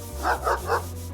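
An angry dog barks in the video game Chained Echoes: three quick, evenly spaced barks over a steady low in-game hum.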